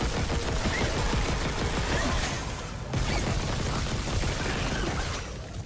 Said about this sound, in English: Plasma Cutter's the best gun in the game, dude.